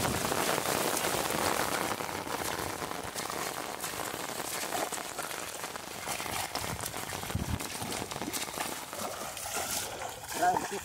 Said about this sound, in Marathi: पाऊस आलेला आहे, पाऊस आलेला आहे